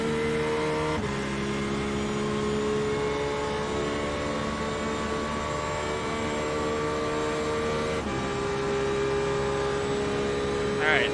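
A race car engine in an IMSA Le Mans racing video game holds a steady, tonal drone throughout, with abrupt shifts in pitch near the start and again later on.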